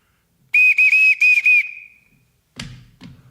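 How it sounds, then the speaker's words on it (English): A loud, shrill whistle is blown to summon a household, sounding as a warbling trill in three quick bursts that fade out, followed by two muffled thumps like footsteps. "Everyone in this house answers to a whistle."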